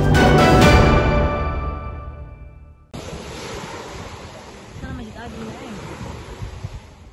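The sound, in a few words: ocean waves at Fatuvuri beach, Palu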